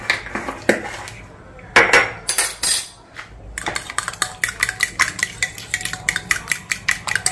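Spoon scraping and clinking against a bowl while salt and roasted cumin powder are mixed into curd, a steady run of close, quick taps and scrapes, with a brief spoken word early on.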